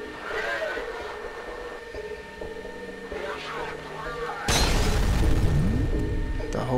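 A grenade goes off in the shooter game F.E.A.R., a loud blast about two-thirds of the way in that cuts through the quieter game ambience and trails into a rumbling, crackling decay.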